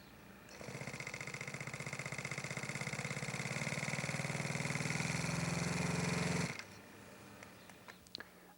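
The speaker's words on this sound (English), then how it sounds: "Let's see if we can get the engine on the Galapagos started for some water taxiing tests." A small glow-plug engine on a model seaplane fires up and runs at a high, buzzing, rapidly pulsing drone for about six seconds, then cuts off abruptly, leaving faint clicks and handling noises.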